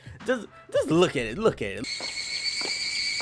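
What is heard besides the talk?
cicadas in anime film background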